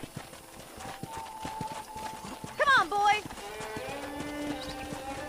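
A horse in Red Dead Redemption clip-clops at a steady trot, with close, even hoofbeats under a voice and a short whinny partway through.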